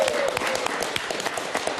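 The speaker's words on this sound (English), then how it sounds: "let's all give a big cheer for Kevin Reynolds" An audience applauds for figure skater Kevin Reynolds, with dense, continuous clapping from a large crowd that fills the moment at steady loudness.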